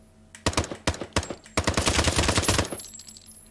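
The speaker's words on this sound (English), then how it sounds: "You can cock the weapon, and of course, fire it." A weapon fires in the VR shooter Triton VR. A few separate loud shots are followed by a rapid automatic burst, close and punchy, with no talking.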